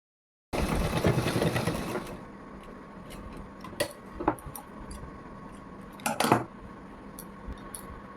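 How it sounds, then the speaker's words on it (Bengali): Sewing machine stitching a folded half-inch hem around a kaftan maxi, a loud rapid mechanical whir for about two seconds, then quieter pauses broken by clicks, fabric handling and a second short burst of stitching. "এইভাবে 1/2 ইঞ্চি মুড়ে আমি পুরোটা রাউন্ড করে সেলাই দেবো"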